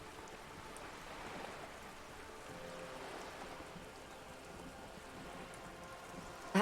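Soft, steady rainfall in the video game Disco Elysium fills the background as a faint, even patter with no speech, ending in a brief louder tap.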